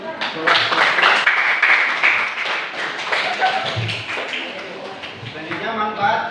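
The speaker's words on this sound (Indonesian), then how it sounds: "Beri aplaus untuk kelompok 1." Classroom applause for the first student group in an Indonesian 11th-grade social studies lesson: a steady burst of many hands clapping close by for several seconds, thinning toward the end.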